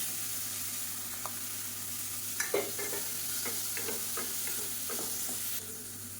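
Chopped tomato sautéing in a pan for a bone soup, a steady close sizzle with a spoon scraping and stirring in several short strokes, no voices.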